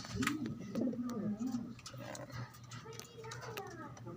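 Pigeons cooing close by in a series of soft, rolling coos, with someone talking over and between them.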